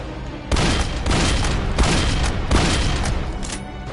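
Rapid gunfire in a video game, loud sustained bursts of repeated shots with short breaks between them, no voice over it.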